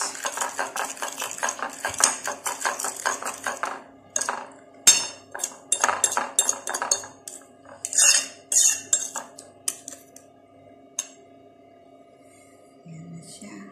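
Eggs and cheese for an omelette with coriander, mixed in a bowl with a utensil, a rapid clinking and tapping rhythm that comes in bursts with brief pauses, close and fairly loud, with no talking.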